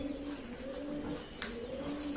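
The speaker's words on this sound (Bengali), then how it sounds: "খাবার খেতে নেমেছে সব পায়রাগুলো দেখতে পাচ্ছেন" High-flying pigeons in Farakka coo steadily while feeding on the ground, a soft, continuous low burbling close by with a few brief higher chirps and no talk.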